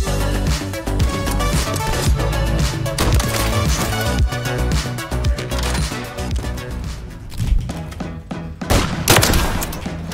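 Dense, continuous gunfire from the Call of Duty MW3 video game fills the scene, with rapid loud shots and overlapping volleys, a brief lull, then fresh bursts near the end.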